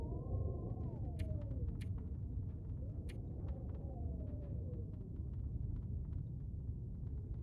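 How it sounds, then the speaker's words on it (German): Storm wind in the survival video game The Long Dark, a deep continuous roaring rumble with a rising and falling whistling howl, steady and loud with no talking. "Schon wieder ein Sturm."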